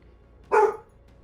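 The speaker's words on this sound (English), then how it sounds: "Bark." A single short dog bark, clear and close, sounds as an in-game effect during a card game, with quiet before and after.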